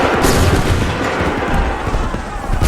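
A musket volley in Assassin's Creed III cracks out as a loud, dense burst of overlapping gunfire, harsh and close, filling the short stretch with rolling noise.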